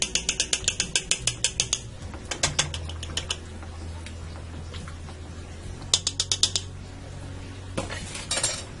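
A spoon stirs beef steak soup in a metal pot, scraping and clattering in quick rhythmic bursts with quieter pauses between, close and clear.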